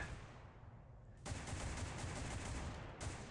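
Rapid automatic gunfire bursts from the mobile online FPS War After, starting after a quieter second and roaring loud and dense, with a brief dip before resuming.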